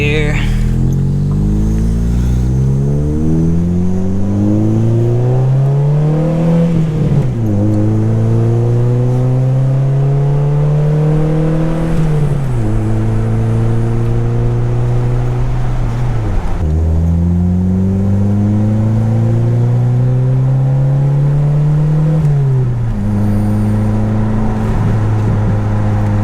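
A 1988 Honda Accord with a 30-year-old engine drives on the road, its engine rising through gears in repeated rev climbs with drops at each shift, loud and steady from inside the car, with a voice talking over it.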